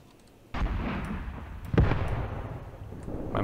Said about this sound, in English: My mortar fire mission is landing back here, that's good.